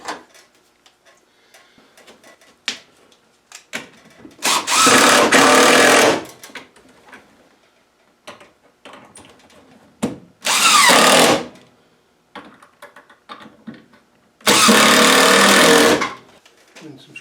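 A power drill drives screws into shelf support feet in a workshop. It comes as three loud, sustained whirring bursts of about one to two seconds each, separated by quieter clicks and handling noises.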